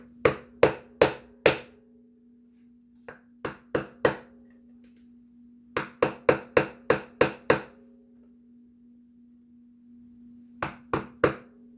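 A hammer strikes the lock tab on a DRZ400SM countershaft nut in sharp metallic blows, quick clusters of three to six hits separated by pauses, close and alone over a steady low hum.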